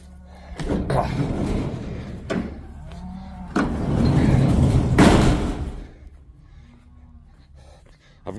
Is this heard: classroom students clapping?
no